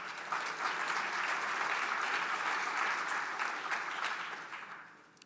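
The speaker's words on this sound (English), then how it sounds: "A round of applause to everyone coming in for the first time." Conference audience applauding first-time attendees at opening remarks, a broad wash of clapping heard from a distance that holds steady, then gradually fades out.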